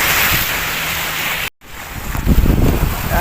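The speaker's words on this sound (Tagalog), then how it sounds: "lalaki ng alon dito ngayon" Big waves wash against the lake shore at Barangay Nagsulo, Cardona, Rizal, a loud steady surge with heavy wind noise on the microphone and a brief cutout midway.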